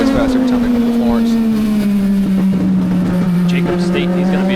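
Legend race cars roar along the track in a continuous loud drone, a dominant engine tone slowly falling in pitch as the pack passes, with crowd and commentary noise mixed in.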